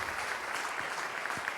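Church congregation applauding together during a worship service, a steady broadband wash of many hands clapping at moderate distance with no voices standing out.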